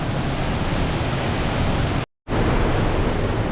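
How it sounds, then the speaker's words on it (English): The waterfall below the cliffs at Clifty Falls roars as a steady, dense wash of falling water close by, broken once by a short gap before it returns at the same level. "I was just at a different view of the waterfall."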